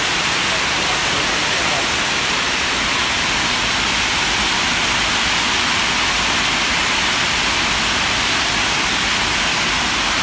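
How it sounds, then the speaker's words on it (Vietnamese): A dense downpour of heavy rain hisses continuously and loudly for the whole stretch, with the same steady wash from start to finish. "Mưa to quá."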